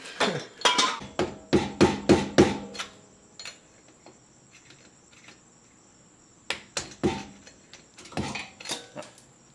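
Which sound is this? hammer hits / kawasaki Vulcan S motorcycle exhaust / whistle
hammer hits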